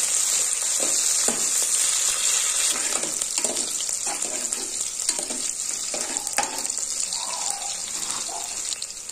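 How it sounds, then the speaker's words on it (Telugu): Onions and green chilies frying together in a pan for a home-style mutton curry, a steady loud sizzle with occasional stirring scrapes throughout, no talking. "అందుకే ఉల్లిగడ్డలు పచ్చిమిర్చి ఒక్కసారి వేస్తాను."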